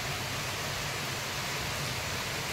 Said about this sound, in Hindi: केते जोर वर्षा होची